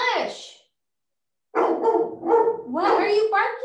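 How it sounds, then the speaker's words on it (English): A dog barks repeatedly at close range during a tabletop board game session, with a short yelp followed after a pause by a run of louder barks and whines. "What are you barking at?"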